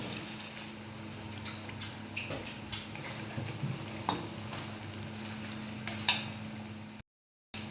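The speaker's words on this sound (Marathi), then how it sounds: "अशा दोघी बाजूने मस्त तळून घ्यायचे." Fasting-style kachoris fry in hot oil, a soft steady sizzle with faint ticking bubbles and occasional light utensil taps, close but quiet, ending in a brief silent gap.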